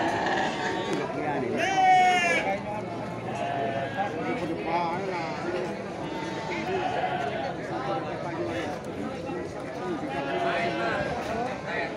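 Sheep bleat at a busy sheep and goat market, several loud calls rising over steady crowd chatter and nearby talking, with more bleats scattered through the noise.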